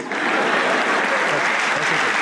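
Television studio audience on a comedy talk show breaks into dense, steady applause, loud and close, a continuous wash of clapping hands with no voices standing out.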